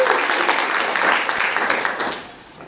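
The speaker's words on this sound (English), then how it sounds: "Massive round of applause!" An audience claps in a conference room, a brief dense burst of applause that fades over a few seconds.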